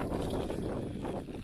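Steady low rumbling buffet of wind hitting a microphone, loud and continuous throughout, with no voices.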